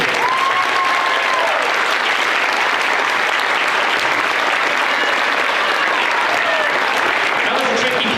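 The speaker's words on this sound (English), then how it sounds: "another round of applause for the 6th grade band" Steady, loud applause from a concert audience for a sixth grade band at a Christmas concert in Fairbanks, a dense even clatter of many hands sustained for the full stretch without pause.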